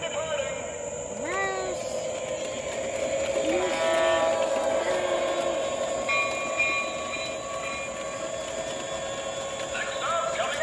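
A Santa Fe Super Chief model train runs outdoors in McCallum Park, a steady rolling rumble with a continuous high whine and brief horn-like tones, while people talk faintly in the background.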